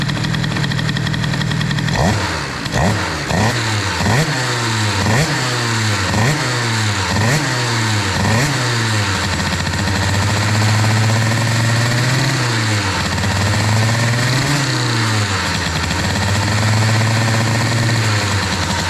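A moped fitted with an Airsal XT 77 kit, boosted intake and wide reed valve, is revved in a rapid series of sharp blips, then settles into a loud, steady, slightly wavering run, heard close up.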